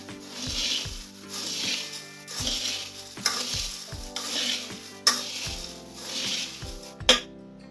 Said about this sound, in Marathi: आणि थोडी शेव नंतरला थोडी घालूया वरती थोडी कोथिंबीर मिक्स करूया